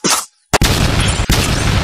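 Gunshot effects in a low-budget comedy sketch, a sharp loud burst followed by two more abrupt cracks, each trailing into a noisy roar, with no talking.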